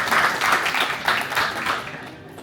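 An audience at the Grand Model of Turkey semi-final selections at the Hilton claps for fashion designer Turan Aksoy, a dense burst of applause that fades out within a couple of seconds.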